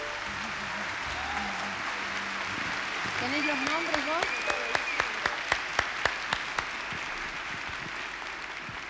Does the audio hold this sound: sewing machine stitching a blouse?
no